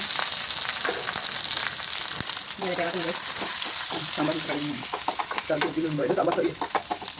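Onion, dried red chillies and curry leaves sizzle and spit in hot oil for a sambar, a steady close frying hiss with stirring scrapes, while a voice is heard briefly in the background.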